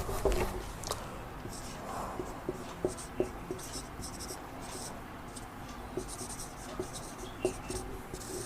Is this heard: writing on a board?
yes